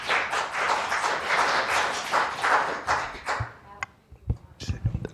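An audience claps steadily at a Provo city council meeting, a dense, loud patter that fades out after a few seconds, leaving a handful of sharp knocks and thumps in the quiet room.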